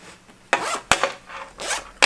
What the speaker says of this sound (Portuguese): Vou enfiar isso aqui pra dentro pra testar o zíper